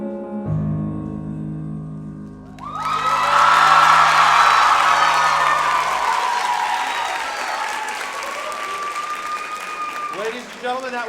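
A song ends with sustained instrumental notes, then a school faculty follies audience bursts into loud applause with whoops and cheering that gradually tapers off, and a voice briefly speaks near the end.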